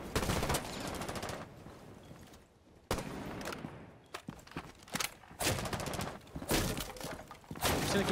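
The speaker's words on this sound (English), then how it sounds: "I'm just gonna keep shooting." Gunfire in Rainbow Six Siege: repeated loud bursts of shots in clusters, with a quieter lull in the middle before the firing resumes, no talking.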